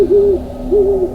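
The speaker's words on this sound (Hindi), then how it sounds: "बस कहीं दूर से कोई उल्लू बोल रहा था" An owl hoots twice at night, two short wavering calls with a brief gap between them, fairly clear against a quiet low background.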